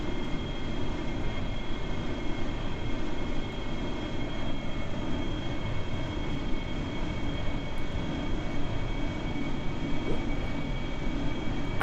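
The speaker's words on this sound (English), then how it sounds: "we'll let the big engines get to 200 kilonewtons" Big rocket engines of the Space TOG spaceplane in Kerbal Space Program throttling up to 200 kilonewtons, a steady broad roar that holds unchanged and continuous with no pauses or talk.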